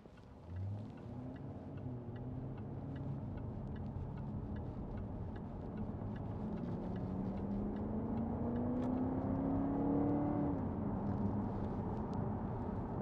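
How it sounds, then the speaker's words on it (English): A 2010 Jaguar XK 5.0 V8 Portfolio automatic pulls away toward a roundabout, its engine note rising steadily in pitch as it accelerates and shifting once near the end, heard as a smooth, moderate drone from inside the car. "I'm accelerating towards the roundabout."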